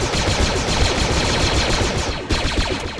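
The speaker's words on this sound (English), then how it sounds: "Why are we shooting grenades?" Rapid, dense weapons fire from grenade launchers in the sci-fi shooter game Galactic Contention, a loud, continuous barrage of overlapping shots and blasts with a brief dip near the end.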